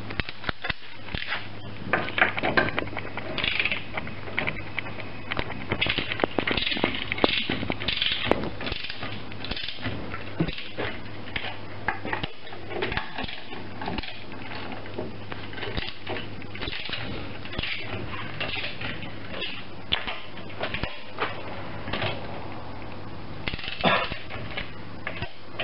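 Torque wrench set to 100 pounds ratcheting during a service on a 2002 AU Ford Falcon, with repeated close metallic clicks and tool handling, mostly without talk.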